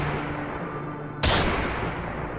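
One sudden loud gunshot-like burst cuts through a dense rumbling background in a film scene of Batman's parents being shot, with the loud wash lingering afterward.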